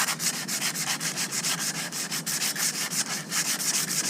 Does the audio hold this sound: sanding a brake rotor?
yes